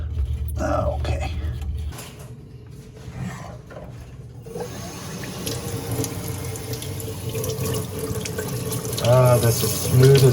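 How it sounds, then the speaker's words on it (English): Water runs from an old single-handle Delta kitchen faucet, a close, steady rush that starts after a brief lull and continues with a voice speaking briefly over it. "Let's get the water back on."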